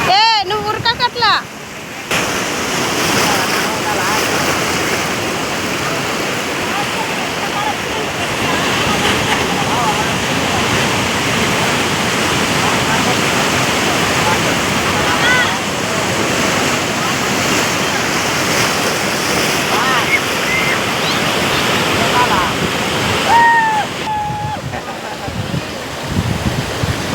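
Sea waves coming up a beach toward a family, a steady broad rush of surf and wind noise lasting throughout, with short squeaky sounds at the beginning and near the end.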